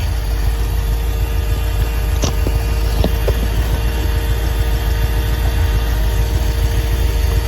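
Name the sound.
car engine idling after carburetor rebuild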